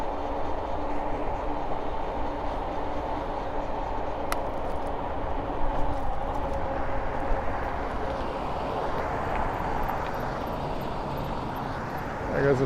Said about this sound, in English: There goes a subway train.